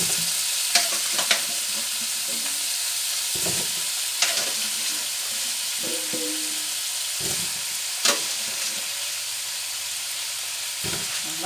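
Potatoes tipped into a pan of pork stew cooking with garlic and parsley, sizzling steadily while a spoon stirs and scrapes in irregular knocks and clatters, close and fairly loud with no talking.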